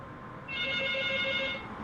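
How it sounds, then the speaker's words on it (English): A house phone gives a single short bell-like ring, clear and fairly close against a quiet background. "That's my phone. Oh, it's the phone."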